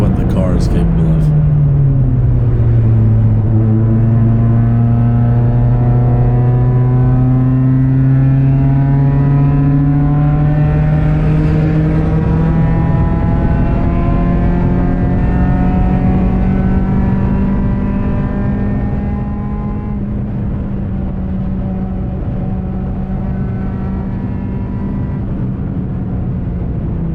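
A ChampCar endurance race car engine heard from onboard, a loud continuous drone rising and falling through gear changes and revs, with a person speaking over it throughout.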